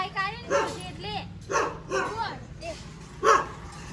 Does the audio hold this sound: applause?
no